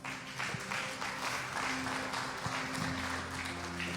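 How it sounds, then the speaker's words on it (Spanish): A church congregation applauds in a steady, moderately distant wash of clapping that holds evenly for several seconds. "Y yo no sé si le puedas dar un aplauso al Señor."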